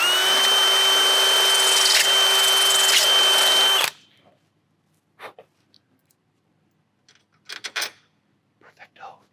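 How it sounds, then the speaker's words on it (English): A power drill with a step bit whines loudly and steadily for about four seconds through soft aluminum on a Ford Bronco front bumper, then stops abruptly, followed by a few faint clicks and rustles. "So grab a step bit or a drill bit, and we're gonna open this up"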